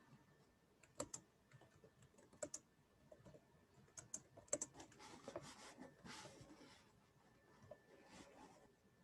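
Fingers type on a computer keyboard in quiet, scattered bursts of soft clicking keystrokes, with short pauses between the flurries.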